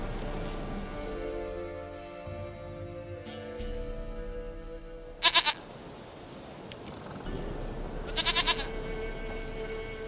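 A goat in The Witcher 3 game world lets out two short, loud, shaky bleats several seconds apart, over a low ambient game soundtrack with no talking.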